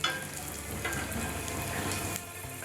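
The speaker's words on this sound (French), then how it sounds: "Faites sauter le tout à feu vif." A Yunnan dish being stir-fried in a wok over high heat, with dried chilies and Sichuan pepper, giving a continuous close sizzle with scraping and tossing, moderately loud and without talk.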